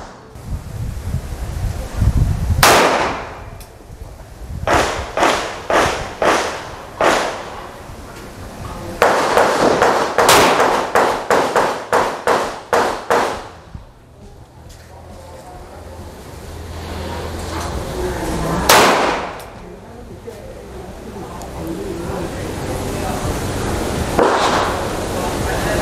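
Shots from a Taurus PT92AF-D pistol firing red-tipped rounds crack in quick strings at an outdoor range: one lone shot, then rapid volleys of several, then a single later shot, with wind noise and outdoor background.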